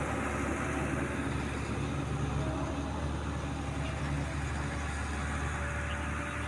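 A water well drilling machine runs as a steady, dense engine drone with a constant low hum, continuous and unchanging throughout at moderate distance.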